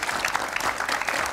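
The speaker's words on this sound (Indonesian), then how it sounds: "Sekali lagi dong tepuk tangan buat Noviana." A crowd at a graduation celebration show claps steadily, a dense burst of applause lasting about a second and a half.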